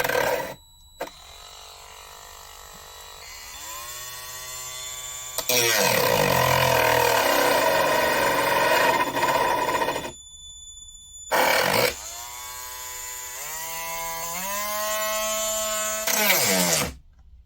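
A Parkside 12V cordless rotary tool (PFBS 12 C7) with a direct-drive motor and no gearbox, whining on and off at high pitch, rising and falling in speed with brief stops and one louder, rougher stretch under load.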